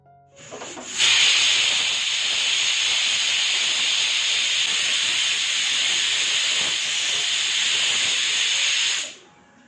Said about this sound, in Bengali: এরপরে আমি সব রকমের মশলা দিয়ে প্রেশার কুকারে নিহারিটা রান্না বসিয়ে দিচ্ছি